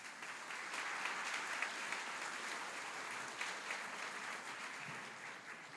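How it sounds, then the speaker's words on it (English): At OSUIT's fall 2021 graduation ceremony, the audience gives a steady, even round of applause that sounds somewhat distant and continues throughout. "Let's give her a round of applause."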